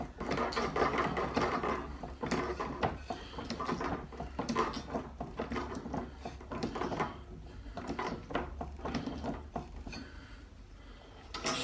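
A metal bender working a piece of stock a little over five feet long, fed under the bender about half an inch to an inch at a time, gives repeated irregular knocks, rubs and clatters that run steadily and close up with no talk.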